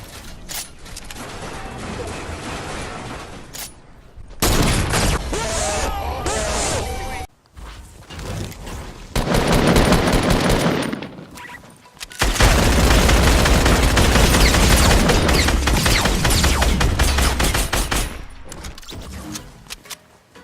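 Video game gunfire crackles in dense, loud bursts and rattling volleys, broken by brief gaps and mechanical clatter, with a voice talking over parts of it.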